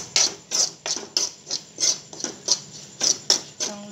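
A spoon scrapes and stirs chilli powder, black masala, salt and turmeric in hot oil in a pan, making a rhythmic series of sharp scraping strokes about twice a second, close and fairly loud.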